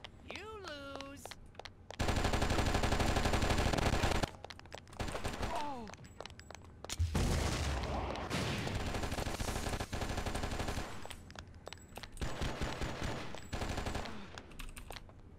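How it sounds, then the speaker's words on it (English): The PC action game Oni fills the air with rapid machine-gun bursts and repeated gunshots, loud and close, broken by short pauses, with a voice speaking between the volleys. "Where are they shooting from?"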